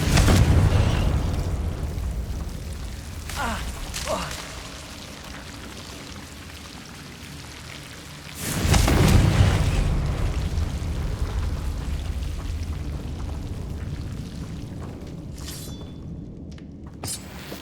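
A Confringo fire spell from Hogwarts Legacy detonates in two big booming blasts with rumbling tails, a sharp one at the start and another midway, with quieter crackles between.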